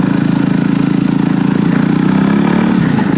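A Jawa Perak single-seat bobber motorcycle engine while riding, thumping with a steady, even pulse close up, its pitch lifting slightly toward the end.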